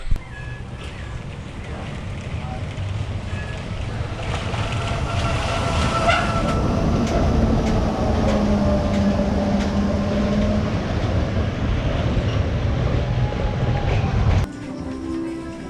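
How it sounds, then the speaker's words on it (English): A mine train roller coaster at Alton Towers rumbles along the track close by with steady clattering and a rising roar, continuous for most of the stretch before abruptly dropping away. "We've just seen a train go past with just 2 people in it"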